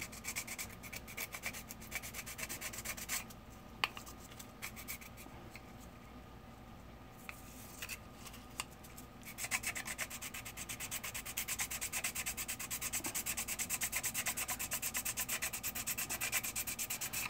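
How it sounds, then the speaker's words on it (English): Sanding a custom hood using the side of a sander, a continuous close rasping rub that runs in quick strokes throughout and grows denser and louder in the second half. "that's why I like to use the side of the sander"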